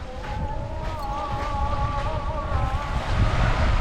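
Sea waves at a beach wash in a steady, continuous roar with wind noise over the microphone, moderately loud and constant with no speech.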